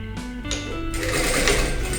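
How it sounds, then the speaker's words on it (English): A sewing machine stitches white skirt fabric for a gathered maxi skirt, starting with a short run and then settling into a steady, close mechanical whir that holds moderately loud throughout. "Here is my first stitch, and I will end my stitching here"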